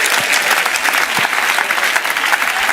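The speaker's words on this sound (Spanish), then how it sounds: "Dele fuerte el aplauso al Señor." A church congregation claps loudly and steadily during a sermon, a dense continuous applause filling the room from start to end with no speech over it.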